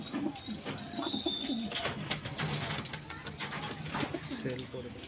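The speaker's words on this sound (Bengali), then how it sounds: "সেল হবে, অনেক পায়রা আছে।" Pigeons kept for sale coo softly and repeatedly, fairly close by, while someone talks over them.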